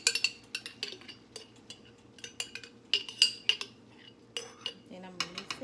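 A utensil stirs shrimp spaghetti and double cheese ragu sauce in a pot, making quiet, close, irregular clinks and scrapes against the metal.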